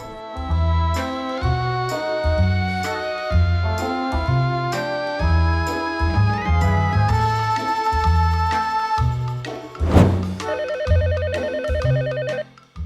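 A telephone rings repeatedly in an insistent looping pattern over a rhythmic musical backing, loud and close, ending in a higher, faster trill.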